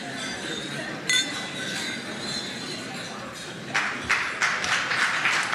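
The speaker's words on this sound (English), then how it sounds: "I will raise a glass and ask everyone to join as we raise a glass to the Prime Minister" Glasses clinking at a state luncheon toast honoring the Australian Prime Minister, a few sharp chinks rising over a steady murmur of the room, clustering near the end.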